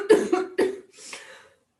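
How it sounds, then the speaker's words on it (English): Three or four short, close coughs in a quick burst, trailing off into a softer raspy breath. "I have a bit of a cough this morning."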